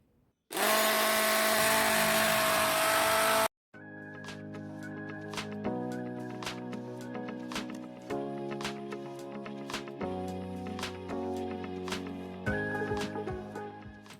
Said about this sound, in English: Then I'll be using my hand blender to mix it together before applying on my hair.